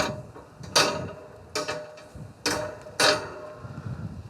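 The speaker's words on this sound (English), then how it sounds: "And now we're putting on our cooking grates." Metal cooking grates set down on a Kamado Joe Big Joe 3 ceramic grill, four sharp clanks and rattles spaced about a second apart, close and fairly loud against a quiet background.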